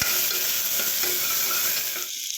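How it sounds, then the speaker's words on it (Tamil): Tomatoes with masala sauté in hot oil while being stirred, giving a dense, continuous close sizzle and frying hiss with scraping movement that drops away abruptly just before the end, with no voices. "இப்போ பாருங்கள் தக்காளி போட்டுட்டேன் இதையும் நல்லா மேக்ஸ்டாக வதக்கிக்கலாம்"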